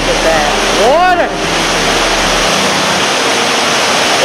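Niagara Falls sends up a broad, steady roar of falling water, loud and continuous, with a brief rising and falling tonal sound early on and people talking nearby.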